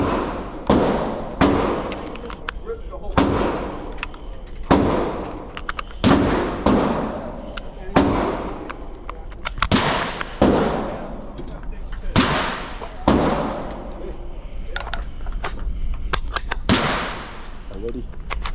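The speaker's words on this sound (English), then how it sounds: "Let me get out the shotgun. Let me destroy the target" Shotgun blasts at a target on a shooting range, loud booming reports repeated roughly every second or two in a steady series, close by, with people talking in the background.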